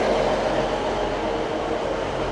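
A train stands at Skipton station, giving a steady, close rumble of rolling stock that holds at an even level throughout, with no voices.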